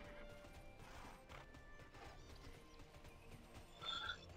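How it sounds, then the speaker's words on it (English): A horse companion in the online game TERA: faint clip-clopping hooves and a soft whinny over quiet game ambience, with a brief, slightly louder burst near the end. "We got our first horse companion riding."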